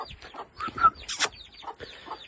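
Chickens cluck close by in a run of short, choppy calls, with one brief harsher squawk in the middle.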